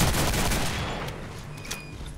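Rapid bursts of gunfire in Killing Floor, a dense volley at first that thins and fades, with a few sharp shots near the end.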